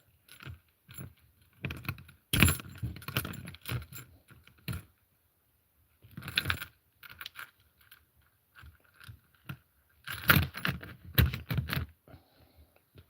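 A paper clip scrapes and clicks inside the lock of Vipertek handcuffs, up close, in irregular bursts of metallic rattling and jangling separated by short pauses.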